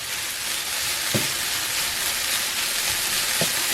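Spinach wilts in a hot pan with a steady, close sizzle throughout, broken by a couple of soft knocks from stirring.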